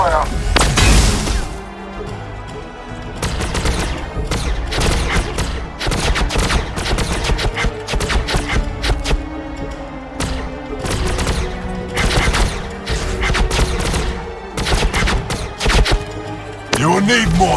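Rapid gunfire bursts and explosive impacts crackle through a Warhammer 40k: Battlesector battle, dense and loud across the whole stretch, with shouted unit voice lines between volleys.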